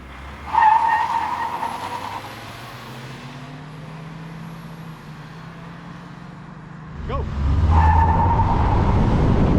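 A Proton S70 1.5T with a 7DCT gearbox, rated 150 PS and 226 Nm, launches hard in a 0-100 km/h acceleration run. Its engine revs rise loudly and steadily near the microphone, easing off in the middle and then climbing again.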